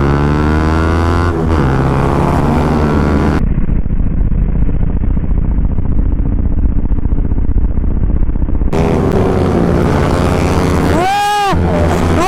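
TVS Apache RR 310 and KTM RC 390 sport motorcycles ridden at speed, loud engine drone with shifting pitch, heavy wind buffeting in the middle and a pitch sweep near the end.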